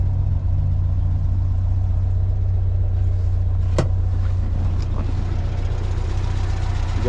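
A 1977 Volkswagen Beetle's air-cooled engine idles steadily and close by, a low, even, rhythmic rumble that runs throughout with no knocks, broken briefly by a couple of faint clicks.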